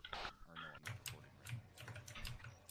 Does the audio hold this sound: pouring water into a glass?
no